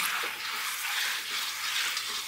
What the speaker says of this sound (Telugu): చికెన్ని నూనెలో ఒక 5-6 నిమిషాలు వేయించుకుంటే ఆ ముక్కలకి మంచిగా రంగు వచ్చింది